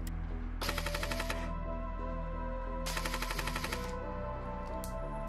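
SA-FX01 Flex airsoft replica firing BBs at a fast rate, two distinct full-auto bursts of rapid mechanical clatter over a steady low motor hum, heard close up.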